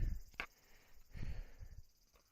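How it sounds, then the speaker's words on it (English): Heavy, labored breaths of a person hiking uphill, close to the mic, a few rough inhales and exhales in an uneven rhythm with quiet gaps between them. "You can probably hear me breathing pretty heavily."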